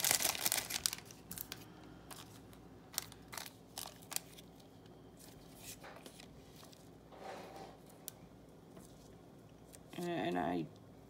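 Plastic cellophane packaging crinkles and crackles in scattered close bursts as it is handled, with quiet gaps between them and a brief voice near the end.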